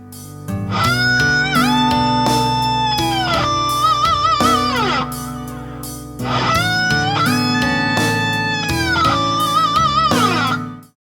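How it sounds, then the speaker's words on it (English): Electric guitar notes bend upward, release, and bend again on the same string in a double bend, sustaining with slow pitch swoops; the phrase plays twice with a short break between. "That's called a double bend, because I'm bending the string twice."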